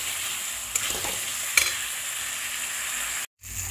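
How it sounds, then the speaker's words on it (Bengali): Tangra fish curry with tomato and a pinch of sugar stirred in a pan, giving a continuous soft sizzle with a couple of sharp spatula knocks and a brief cut near the end. "এটাকে ভালো করে আবার নাড়িয়ে নিচ্ছি"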